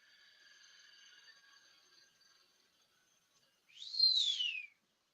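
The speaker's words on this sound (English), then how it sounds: "And your pigeon making a lot of noise there, Joe." A pet pigeon, mistaken at first for a parrot, gives one clear, fairly loud falling call close by near the end, after a faint high whistling tone at the start.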